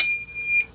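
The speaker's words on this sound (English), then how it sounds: "Hold it in. It's going to start beeping." A DJI O4 FPV drone and its controller binding emit a loud, steady electronic beep with bright tonal harmonics, sustained about half a second before a short second chirp and a quick fade.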